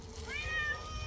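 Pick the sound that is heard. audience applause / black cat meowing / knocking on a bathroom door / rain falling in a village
black cat meowing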